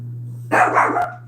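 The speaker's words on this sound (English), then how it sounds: "Dog's freaking out." A dog barks indoors, a quick burst of two or three sharp barks after a steady low electrical hum, fairly close and loud.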